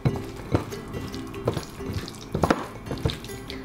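Tap water running in a sink while shrimp are rinsed, a steady close splash broken by irregular sloshes and knocks as they are handled, no talking.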